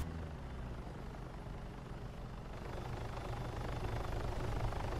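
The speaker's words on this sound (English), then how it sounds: "I start trying to light up that chopper." A helicopter flies overhead in the video game City Life RPG 3, a continuous low rotor thrum and engine whir that grows slightly louder toward the end, with no voices.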